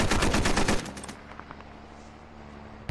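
A burst of rapid machine gun fire from a gunner in the video game Squad rattles loudly for under a second, then a few scattered distant shots echo out over a quieter background.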